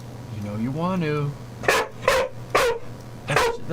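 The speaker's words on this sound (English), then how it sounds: "That's just barking." A dog gives a whining, rising howl, then four loud, close barks in a steady rhythm.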